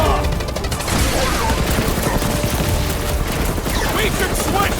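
Dense, continuous gunfire rattles loudly in Marvel's Guardians of the Galaxy video game, a sustained fusillade of rapid shots mixed with crashes and other combat noise.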